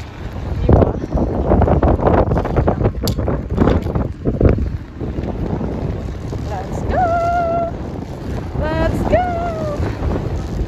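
Strong wind buffets a microphone on the long Sellano Tibetan suspension bridge in Italy, a loud roaring rumble in gusts, with a voice exclaiming over it toward the end.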